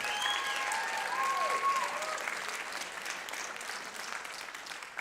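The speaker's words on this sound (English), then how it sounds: "Let's give them a round of applause for all our players of the week." A concert audience applauds steadily at an annual school band concert, the clapping dense at first, then slowly thinning, while a brass instrument plays a few sustained notes over it.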